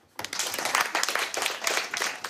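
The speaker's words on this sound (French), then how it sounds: "OK, on l'applaudit." A school class applauds a classmate, a dense wash of many hands clapping together that starts abruptly and carries on steadily at moderate volume, with no speech over it.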